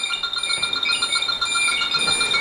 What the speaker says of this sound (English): It's the symphony of leak detectors.